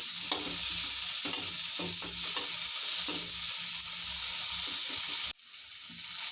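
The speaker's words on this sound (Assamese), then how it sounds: "এইখিনি আলুখিনি অলপ সময় ভাজিব লাগে," Potatoes fry in a hot pan with turmeric while being stirred, a steady close sizzle broken by repeated scraping strokes of the spoon, the frying cutting off abruptly near the end.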